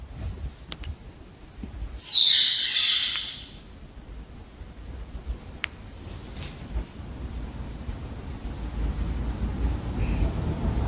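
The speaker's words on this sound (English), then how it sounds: "a bird sanctuary as you just heard" Birds chirp in a loud, dense burst for about a second near a bird sanctuary, then fade, leaving a low outdoor rumble and a few faint calls.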